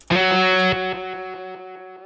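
A loud synthesized tone strikes, then delay-effect echoes repeat in a rapid series of evenly spaced, gradually fading delays.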